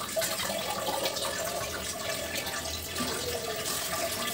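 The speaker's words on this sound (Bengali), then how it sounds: "দেখুন, আমি এখন পানি দিলাম কড়াই করতে" Water is poured into a kadai for cooking olives for pickle, a continuous gurgling splash and trickle with a faint low hum underneath, no speech.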